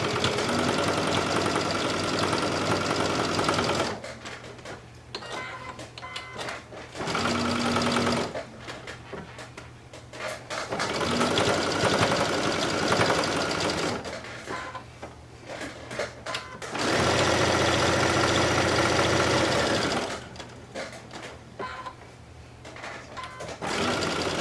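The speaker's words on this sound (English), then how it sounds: "And we're going to top stitch around with about 1/8 of an inch seam allowance." A sewing machine topstitches around the edge of a scrappy fabric coaster at about an eighth-inch seam allowance, running in four long, steady close-up bursts with short pauses between them and no voices.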